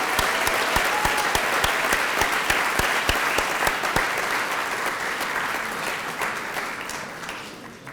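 Audience applause at a college alumni hall of fame induction ceremony, a steady wash of clapping from a large crowd indoors with sharp individual claps up close, gradually thinning toward the end.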